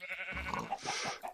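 A cow in the video game TerraFirmaCraft gives one brief, bleat-like moo that wavers in pitch. It is nearby and clear, with no talking over it.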